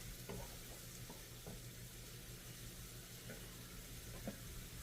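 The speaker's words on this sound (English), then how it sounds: "while that's sauteing up here" Sausage sautéing in a pan for a browned butter and herb stuffing produces a faint, steady hiss of sizzling with a few soft spatula clicks scattered through, heard at low level without any voices.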